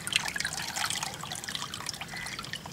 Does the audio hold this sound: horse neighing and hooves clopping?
no